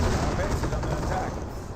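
MG42 machine gun fire in the World War II strategy game Company of Heroes: dense, rapid rattling bursts mixed with battlefield noise, steady and fairly loud, with a voice talking over it.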